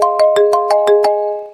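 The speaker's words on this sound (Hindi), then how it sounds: "तभी उसके फोन पे दीप्ति का कॉल आया।" A mobile phone rings for an incoming call, a loud, close melodic ringtone of about six rapid pulsing tones over sustained notes, played alone and fading out at the end.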